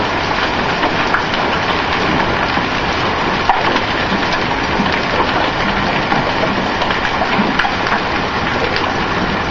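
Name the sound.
hail hitting and flying off the roof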